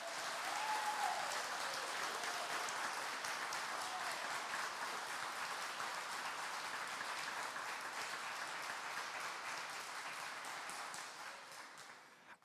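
A church service audience claps in a sustained, even wash of applause that holds steady and fades near the end, heard from a little distance.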